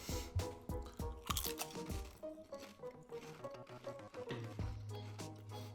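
Close, loud crunching of large BBQ potato chips being chewed, a rapid run of crisp bites and chews repeating throughout, with faint background music.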